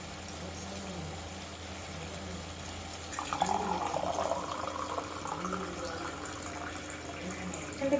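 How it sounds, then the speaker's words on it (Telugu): Water runs from two glasses into a pot of ginger chicken, a soft continuous pouring and trickling that swells midway, with faint kitchen noise around it. "ఇప్పుడు దీంట్లో మనం 2 గ్లాసులు నీళ్లు పోసుకొని ఉడికించుకోవాలి."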